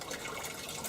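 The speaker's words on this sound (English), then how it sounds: "It's just a water pump that's pumping the water to the top." A small fountain pump in a hydroponic setup lifts water to the top, giving a brief, soft, steady trickling and splashing of running water.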